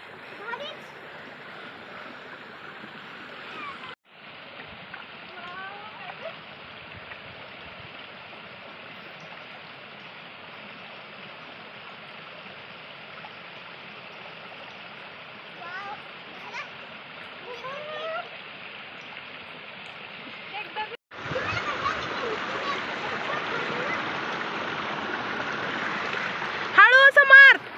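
Water at the Shukracharya waterfall rushes in an even, steady wash throughout, growing louder toward the end, while people talk now and then over it.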